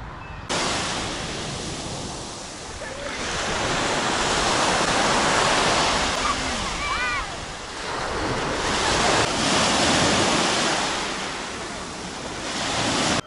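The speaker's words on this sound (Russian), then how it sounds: "отправляемся с вами куда? На пляж Клеопатры смотреть на море." Sea waves wash onto Cleopatra beach in Alanya, a steady broadband surf roar that swells and recedes over several slow cycles, with wind buffeting the microphone and a faint high chirp partway through.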